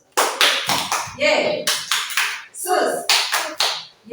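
A classroom of students claps hands together in a rhythmic, repeated clap pattern, sharp loud bursts at close range, alternating with children chanting in unison.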